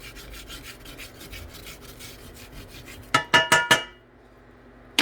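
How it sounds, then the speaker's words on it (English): A utensil scrapes the bottom of a pan holding bacon fat, a series of rough rubbing strokes ending in four sharp, louder scrapes before falling quiet. "You might want to scrape the bottom just a little bit."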